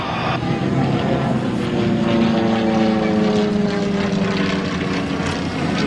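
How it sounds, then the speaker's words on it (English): An IAC aerobatic aircraft powers up as it dives during a manoeuvre at the 1997 Abbeyshrule Air Show in Ireland, giving a loud, sustained engine drone with a slowly shifting pitch that dominates the scene. "as he picks up the power on the way down, he'll be picking it up to around about 230 knots"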